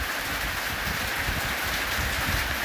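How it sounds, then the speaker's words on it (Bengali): Steady rain falls on an Eid day, making a continuous even hiss with a dense patter and no break, close and fairly loud, with no voices. "বৃষ্টি হইতেছে বৃষ্টি"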